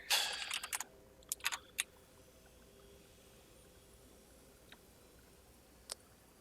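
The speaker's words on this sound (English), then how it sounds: "Your keyboard is really loud." Loud computer keyboard typing up close: a dense flurry of clicks and clacks at the start, then a few isolated keystrokes spaced out over a quiet background.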